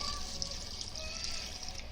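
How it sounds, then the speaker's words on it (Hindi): A little water poured steadily into a ground ajwain and cardamom mixture for grinding, making a close, continuous gentle trickling hiss with no break. "थोड़ा सा पानी डालेंगे"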